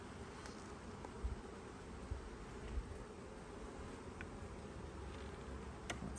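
A soft, steady hum of many honeybees from a package colony buzzing around a hive during an inspection, faint and continuous, with a few light taps and rustles.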